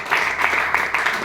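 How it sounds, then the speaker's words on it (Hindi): An audience at a Hisar, Haryana program applauds for a guest, a brief, fairly close patter of many hands clapping in uneven bursts. "मैं एक बार रमेश जी के लिए तालियां चाहूंगा।"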